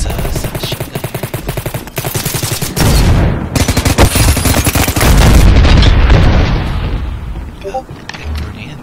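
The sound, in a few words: submachine gun gunfire in Ballistic Overkill video game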